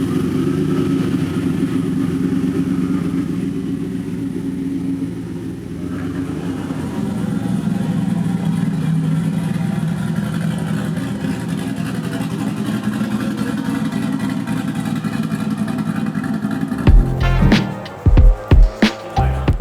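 A Volvo engine idles and rumbles steadily with exhaust drone, then revs sharply a few times near the end, loud and close.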